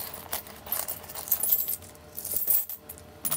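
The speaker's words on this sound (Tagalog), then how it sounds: "Oh, ang daming barya." Loose coins jingle and clink inside a bag as it is handled, a run of bright metallic rattles coming in uneven bursts, close and fairly quiet.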